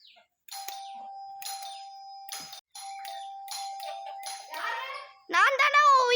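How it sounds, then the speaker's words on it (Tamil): A doorbell chimes several times in a row, each tone ringing out clearly, followed by children's voices chattering loudly at the end. "வாங்க நம்ம போய் காலிங் பெல் அடிக்கலாம்."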